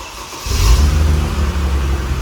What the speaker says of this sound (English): Let's get the cold start going.